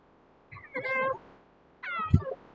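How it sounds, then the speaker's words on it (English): A pet cat meows twice, a longer drawn-out cry followed by a second shorter call after a brief pause, close and clear in a quiet indoor room. "So this is my cat."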